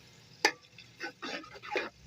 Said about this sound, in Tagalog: Igigisa natin yung ating mga panakot para bumango ang ating toge.